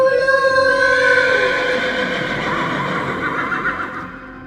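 A horse's neigh used as an effect for a half-horse creature, one long loud whinny that trails off, with faint hoof clip-clop beneath.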